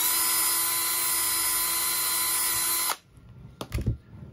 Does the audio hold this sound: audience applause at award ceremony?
no